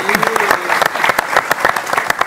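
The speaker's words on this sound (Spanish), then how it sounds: "Un fuerte aplauso" An audience applauds with dense, steady clapping, a lively wash of many hands with a brief cheer near the start.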